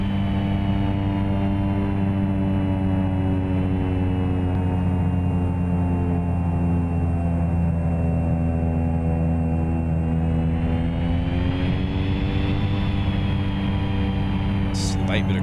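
A simulated airplane engine drones steadily on a landing approach in X-Plane 11, a loud, even propeller hum that dips slightly in pitch near the end as power changes.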